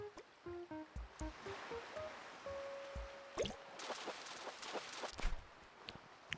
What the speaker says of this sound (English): just the sound of the rain pitter-pattering on all of the surfaces